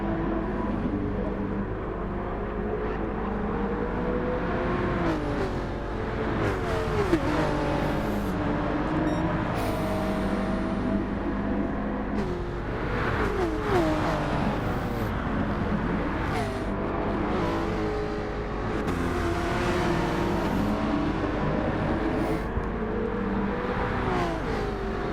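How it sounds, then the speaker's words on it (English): Chevrolet race car engine in Gran Turismo 7 at Red Bull Ring, loud and continuous, revving up and down through repeated gear shifts for about twenty-five seconds with no talking. "With the Chevrolet, I've got to start short shifting"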